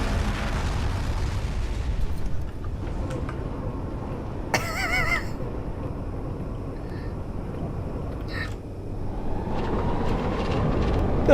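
A Halo magnetic accelerator cannon in Space Engineers fires, giving a deep, rumbling blast that rolls on as a sustained low roar with scattered metallic crackles and debris, heavy and continuous rather than sharp.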